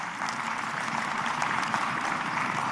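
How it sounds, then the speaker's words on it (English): A large audience claps at a university graduation ceremony, giving a vice-chancellor another round of applause; the clapping is dense, continuous and fairly loud, with faint crowd murmur mixed in. "You want to give our VC another round of applause?"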